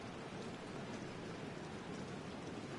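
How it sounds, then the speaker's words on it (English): Steady rain pours down in a football video game during a Week 3 matchup, an even, dense hiss of drops that holds at the same loud level throughout with no talk over it. "The rain set to continue as we are underway in the second half."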